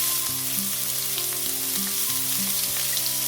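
Chopped garlic, ginger, green chilli and onion fry in a pan for egg chow mein, giving a steady, close sizzle throughout with faint tonal background sounds underneath.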